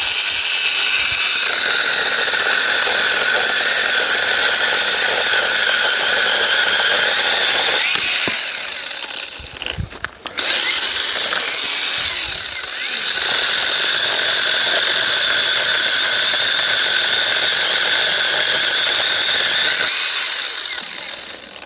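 A powered pruning saw cuts through garden branches with a loud, steady high-pitched whine that runs almost continuously, dipping briefly twice as the blade slows or binds before revving back up.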